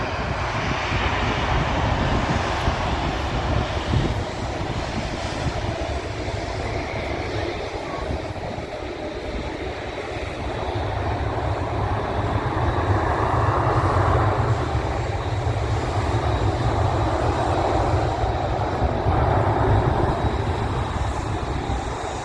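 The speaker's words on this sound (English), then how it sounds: "only the inboard two engines have reverse thrust" An Airbus A380 landing at Manchester Airport with reverse thrust on its two inboard engines gives a loud, continuous broadband jet roar that swells and holds steady throughout, with no talking.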